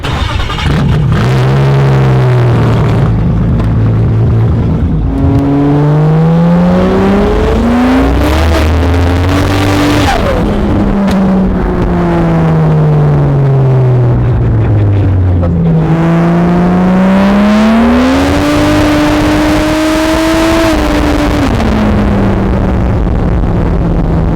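A turbocharged Nissan R32 Skyline on a dyno at a tuning shop revs loudly and repeatedly, its engine pitch climbing and falling in long sweeps and then pulling hard again, close and dominant throughout.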